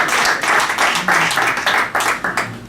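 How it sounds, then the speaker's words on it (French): Audience clapping at an award ceremony for an African music star, loud and close, with rhythmic, pulsing bursts of hand claps that keep a steady beat throughout. "Nous allons applaudir pour lui."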